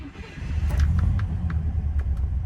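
Rover P5B V8 from 1969 idling steadily after startup, a low rumbling engine note with a few faint clicks, close and moderately loud, no speech.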